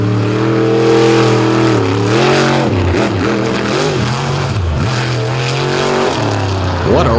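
A race car screams through the final corner of an Indy Jamboree series race, engine revving loud and close with falling and rising pitch sweeps as it brakes and accelerates, a commentator talking over it.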